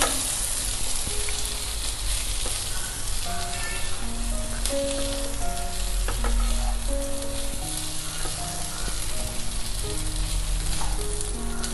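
Fried gobindobhog rice is stirred into spices in a pan, a steady loud sizzle with repeated scraping strokes, while soft melodic background music plays beneath.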